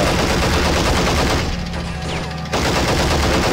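Loud gunfire from the Army Men of War toy soldier video game, a dense sustained burst of shots filling the clip with a short lull in the middle, close and alone with no talk.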